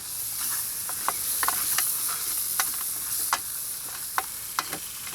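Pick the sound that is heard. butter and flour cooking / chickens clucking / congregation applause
butter and flour cooking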